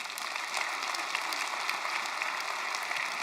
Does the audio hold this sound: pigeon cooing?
no